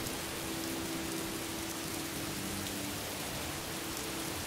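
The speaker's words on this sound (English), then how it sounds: "But this is very thick rain" Heavy rain in the video game Morrowind pours down as a thick, constant hiss at steady loudness, with a low droning hum beneath it and no voices.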